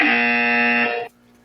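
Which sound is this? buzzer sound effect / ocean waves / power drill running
buzzer sound effect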